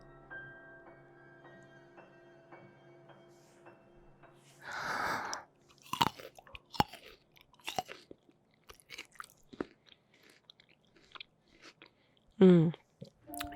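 Hors d'oeuvres are chewed and crunched close to a binaural mic in an ASMR recording: scattered wet bites and crisp crunches after a quiet start, with soft breathing and a sharp loud crunch near the end.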